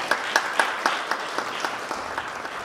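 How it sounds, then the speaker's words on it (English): Crowd at a talk event gives a round of applause, sharp early claps that gradually thin and fade over a couple of seconds. "let's give him a round of applause."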